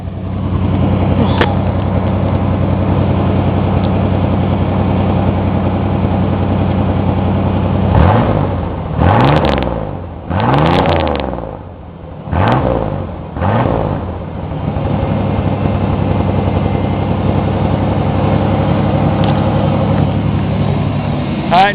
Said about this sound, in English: Do a nice little rev up and maybe go for a little ride.